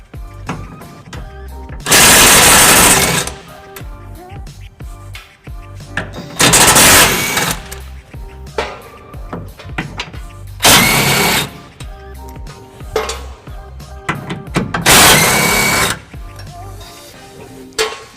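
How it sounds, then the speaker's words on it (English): A power tool working 17mm bolts on a 2011 Nissan Titan, with four loud bursts of rapid whirring spaced a few seconds apart and clattering, handling noises in between. "We'll be using our power tool right here to be taking those off."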